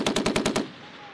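Machine gun fire on a Marine Corps training range during an integrated training exercise: a rapid burst of about six loud, close shots in even rhythm, then a fading echo.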